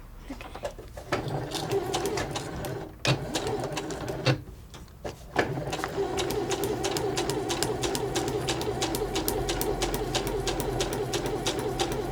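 A home sewing machine stitches a practice corner with backstitching, a steady close mechanical whir with a rapid needle rhythm, briefly pausing and restarting before running continuously.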